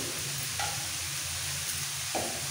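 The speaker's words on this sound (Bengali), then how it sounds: "এবার তেলের মধ্যে একটু নাড়াচাড়া করে সমস্ত সবজি" Mixed vegetables for street-style pav bhaji sizzle in hot oil while being stirred, a steady close frying hiss with a couple of brief spatula scrapes against the pan and no voices.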